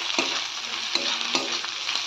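Onions frying in a pan, a bright close sizzle broken by about four spaced scraping strokes of a stirring spoon, with no speech.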